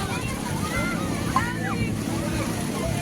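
Steady broadband rush of surf washing along a shoreline, continuous and fairly loud, with wind and faint voices mixed in.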